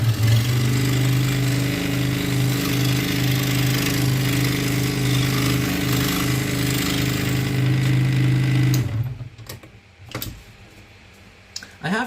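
A scroll saw cuts a Hollow Knight portrait with a loud, steady motor drone and rapid blade buzz for about nine seconds, then shuts off, leaving a few faint clicks and handling noises.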